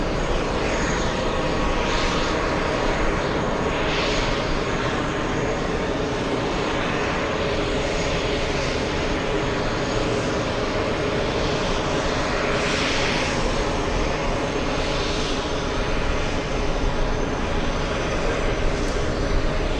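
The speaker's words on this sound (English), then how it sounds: "Let's go for the big A330 on 22 right." A large Airbus A330 jet comes in to land on runway 22 right at JFK airport, its engines delivering a loud, sustained roar that holds steady and close the whole time, with no voices over it.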